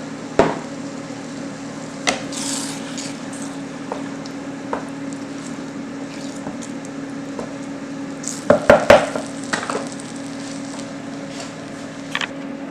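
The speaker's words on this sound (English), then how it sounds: "I'm going to add a little bit of beef stock" Beef stock goes into a pan of sizzling meat sauce and gets stirred: a steady, close frying hiss with a constant hum beneath, broken by scattered spoon knocks and a quick burst of scraping clatter.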